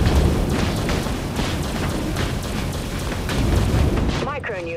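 Micronuke missiles from the warship game Dreadnought strike an enemy destroyer in a dense run of rapid booming impacts, loud and continuous, ending with a short radio-style voice.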